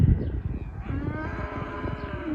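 Cattle mooing on a riverbank beside a fenced field where pigs are kept, a sustained low bellowing call that rises and holds through the clip, fairly close and clear with no talk.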